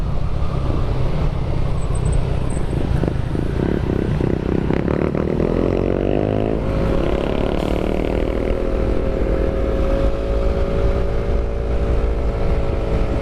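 A motorcycle engine labours hard on an uphill road toward Baguio City, a loud continuous drone whose pitch rises steadily as it strains, heard close with rushing wind.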